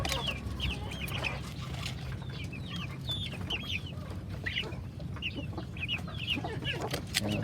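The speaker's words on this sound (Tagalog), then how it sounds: "Yan, 4 yung rooster na meron tayo dito." Four young roosters cluck over and over in a farm pen. The clucks are moderately close and keep coming throughout, over a steady low background rumble.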